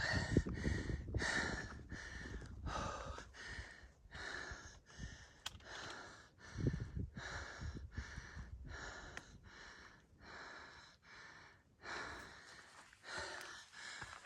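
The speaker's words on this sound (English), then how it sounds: "Pardon the heavy breathing" Heavy, rhythmic breathing close to the mic while hiking uphill on the Appalachian Trail: repeated deep, rasping inhales and exhales at a steady pace, with scuffing footsteps underneath.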